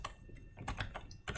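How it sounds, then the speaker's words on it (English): Brief burst of typing on a computer keyboard, several quick, close keystrokes in an uneven rhythm, fairly quiet, with no voices. "I'm going to type them out though."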